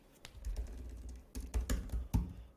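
Computer keyboard keys clatter in quick irregular bursts while code is typed into a Google Sheets script editor, close and moderately loud, with a short pause between flurries and no talking.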